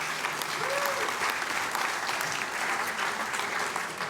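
A room full of conference listeners claps steadily, a warm, even wash of applause at moderate level heard alone, with a brief faint voice near the start.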